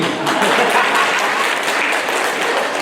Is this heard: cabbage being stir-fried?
no